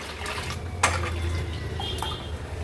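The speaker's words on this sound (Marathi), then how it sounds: "डोसा घालण्या अगोदर आहे ना पीठ व्यवस्थित आपल्याला मिक्स करून घ्यायचंय" Thin rice batter for neer dosa is mixed in a vessel with soft sloshing and stirring, punctuated by one sharp utensil clink and a few lighter taps, close and without talk.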